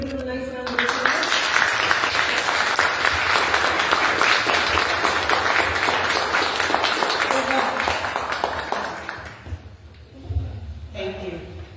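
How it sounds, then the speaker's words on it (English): Audience applause at a school board candidates forum in Plainfield, steady broad clapping from a room of people that swells quickly, holds for several seconds, then tapers off with brief voices near the end. "could we give them a nice round of applause?"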